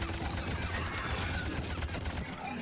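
Sustained rifle fire from the video game Mass Effect 3, a dense, steady barrage of game gunfire with rumbling low end running continuously throughout, loud and close with no pauses.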